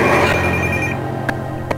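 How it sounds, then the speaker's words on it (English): A mobile phone rings loudly and close by with a steady electronic tone that cuts off partway, followed by a couple of sharp clicks. "I'm going to have to hide my phone because now it chooses the worst fucking time to ring"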